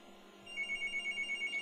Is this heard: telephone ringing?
yes